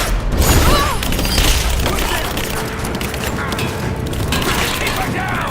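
Sustained suppressing gunfire in Rise of the Tomb Raider, with overlapping cracks and booms forming a continuous loud barrage while soldiers shout over the din.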